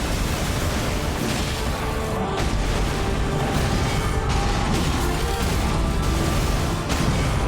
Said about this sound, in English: So we use the repose to avoid that explosion.